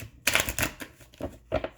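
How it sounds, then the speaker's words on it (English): Tarot cards are shuffled by hand in a few quick, crisp riffling bursts close up, with short pauses between them. "I'm being guided to shuffle one more time."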